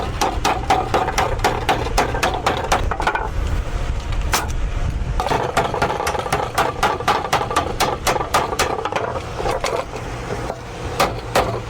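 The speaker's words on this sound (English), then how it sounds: "take your staples and take a hammer, give a good whack, like Lizzie Borden did to her parents." Hammer blows drive staples into pallet wood for a DIY shelf build, a long run of sharp, loud, closely spaced whacks in irregular bursts with a brief pause partway through.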